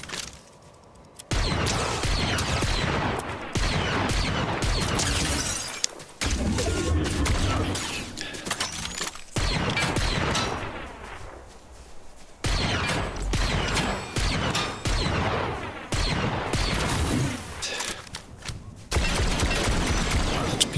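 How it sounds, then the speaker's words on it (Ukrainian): Gunfire in a Fortnite match: repeated bursts of shots and rapid fire in clustered volleys, close and loud, broken by short gaps. "там щось стрілянина активна"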